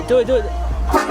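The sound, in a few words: train horn blown as a prank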